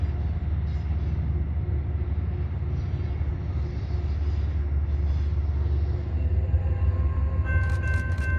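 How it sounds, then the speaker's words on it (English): An Amtrak Empire Service passenger train heading north toward Poughkeepsie on the line through the Bear Mountain region rolls past with a steady, continuous low rumble and wheel noise, ending in a brief higher whine. "One of Amtrak's Empire Service trains rolls not too far behind the Metro North train, heading north for its next stop at Poughkeepsie"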